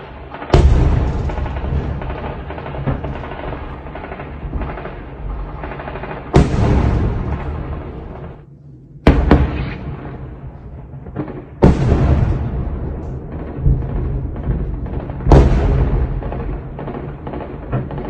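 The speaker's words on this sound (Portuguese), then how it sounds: "Bastante tiro e explosão ali" Heavy shelling near Nova Kakhovka, with loud booming explosions and bursts of gunfire recurring every few seconds over a constant rumbling backdrop; no voices.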